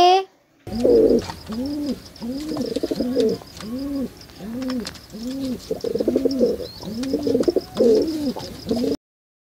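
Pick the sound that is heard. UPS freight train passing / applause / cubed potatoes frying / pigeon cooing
pigeon cooing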